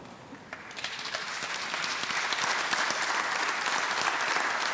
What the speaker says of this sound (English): I expect the applause to be more resounding.